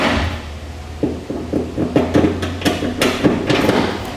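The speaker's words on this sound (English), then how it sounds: "we'll drop down the U-bolts" Metal U-bolts for a B and W Companion underbed hitch dropped through holes in the bed of a 2017 GMC Sierra 2500: a series of close, sharp metallic clanks and knocks in an irregular rhythm, fairly loud.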